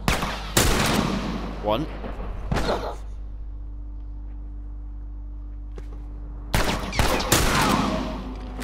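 Rifle shots ring out in The Last of Us Part II, a few loud sharp cracks near the start and another close burst toward the end, with a quiet stretch between and a voice speaking briefly.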